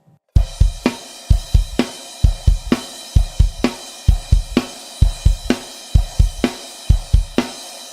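Drum kit playing a beat, punchy kick and snare hits in a fast driving pattern with cymbals over the top, loud and close with no talking.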